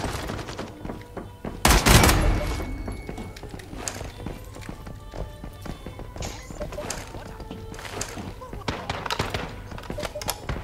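Gunfire from bots in a video game cracks out in a loud burst near the start, followed by scattered quieter shots and clattering game sounds throughout, with a person speaking over it.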